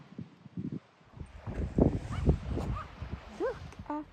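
Dogs on a beach bark and yip in short bursts at moderate distance, with soft wind and rustle around them and some whimpering, high-pitched calls near the end.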